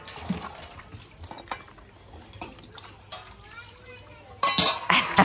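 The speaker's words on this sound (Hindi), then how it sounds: "वाली जगह गीली हो गई है तो भी इधर बैठ के बर्तन मांजेंगे" Metal dishes and utensils are scrubbed and washed by hand while seated on a wet floor at home, with scraping, sharp clinks of steel and splashing water, and a voice talking throughout.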